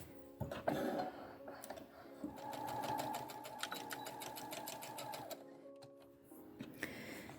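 A sewing machine stitches through layers of fabric and wadding with a guide bar, making a fairly quiet, close, rapid mechanical patter for a few seconds, framed by clicks and small handling noises.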